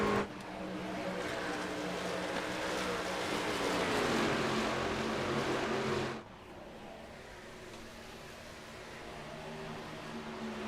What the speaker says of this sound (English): Long line of cars coming across the start stripe to start lap number 12 of 134